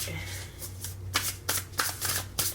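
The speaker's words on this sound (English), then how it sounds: "I'm just giving a quick shuffle now, and these cards are flying out" A large deck of cards is shuffled quickly, giving a run of rapid riffling bursts close up with short pauses between them, and no talk over the sound.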